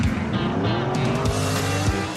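A classic muscle car roars loudly with tires squealing in short bursts over the engine noise, no talk.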